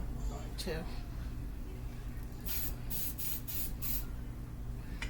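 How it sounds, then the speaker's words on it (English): Several short bursts of cooking spray hiss in quick succession over a low background hum, coating a measuring cup. "we're going to spray our cup, which will make it easy for the honey to come out"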